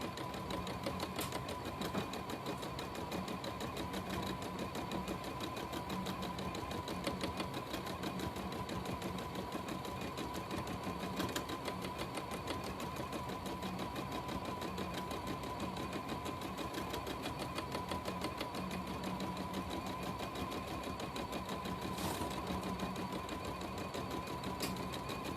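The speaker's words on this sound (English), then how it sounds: "So I'd be stitching in the ditch around about now." A sewing machine stitching in the ditch while quilting with templates and stencils, running in a continuous fast mechanical whir and rattle for the whole stretch, fairly quiet with no talking.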